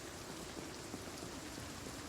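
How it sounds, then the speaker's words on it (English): Rain falling in the video game Project Zomboid, a steady, even hiss of many small drops on surfaces, uniform and unbroken across the short stretch with no voices. "It is raining."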